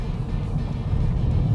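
A 2018 Volkswagen Polo GTI engine on the road, a low steady rumble from inside the moving car with no talk.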